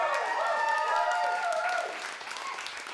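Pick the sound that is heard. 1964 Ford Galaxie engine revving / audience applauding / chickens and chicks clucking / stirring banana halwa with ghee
audience applauding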